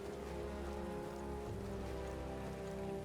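Steady rain patters on surfaces in the video game Metaphor ReFantazio, a faint, even wash of drops with no voices.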